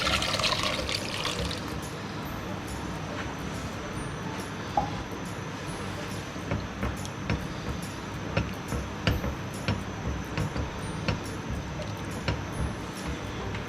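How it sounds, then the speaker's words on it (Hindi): Chickpeas tumble into a cooking pot with their water for Kathiyawari chole, a soft splashing pour followed by steady trickling and faint intermittent clinks. "ये चने जाएंगे पानी समेत।"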